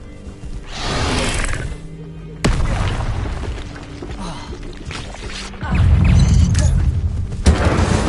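Fiery spell blasts from Hogwarts Legacy gameplay, with a sudden loud whoosh-and-boom burst at about two and a half seconds and another heavy rumbling surge near the end, set over busy game ambience.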